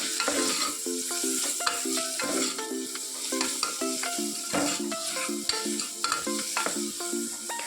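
Green chillies and onions frying in oil in a pan, with a steady sizzle and repeated scraping strokes of a spoon stirring throughout, close up and loud, no talking.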